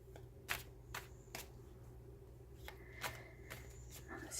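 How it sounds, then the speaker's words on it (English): Quiet tarot card shuffling: several brisk riffling bursts at irregular intervals against a soft, steady background hum. "Shuffling"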